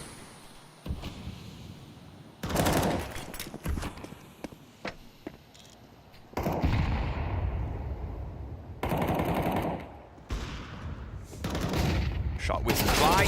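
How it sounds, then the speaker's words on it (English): Gunfire bursts in a Counter-Strike match at a BLAST Open Porto tournament game: rapid automatic volleys in several loud clusters with quieter gaps between. "Shot whizzes by"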